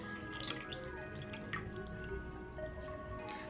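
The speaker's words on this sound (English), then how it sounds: "I've got my lukewarm water right here, and I'm going to just put that on my face, you know, start getting it wet." Lukewarm water splashed by hand onto a face over a sink, with close, soft drips and wet squishing splashes in a loose irregular pattern, fairly quiet.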